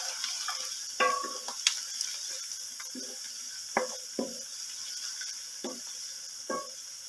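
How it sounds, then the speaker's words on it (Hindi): Whole spices, among them cumin, frying in a pan for a pea and chicken curry, giving a faint, steady sizzle broken by a few sharp stirring clicks and taps. "ये आधे मिनट से ना 1 मिनट के लिए हमने जो है ना इन मसालों को, खड़े मसालों को इसमें फ्राई कर लिया।"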